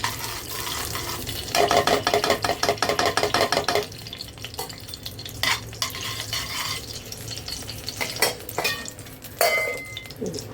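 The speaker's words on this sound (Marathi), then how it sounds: "अक्रोड आणि काजू हे आपण भाजून घेऊया त्याच्यात घीमध्ये" Walnuts and cashews roast in ghee in a pan, stirred with a utensil in bursts of scraping and clinking, with a steady low sizzle between the stirs and no talking.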